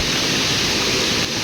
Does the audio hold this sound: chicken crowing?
no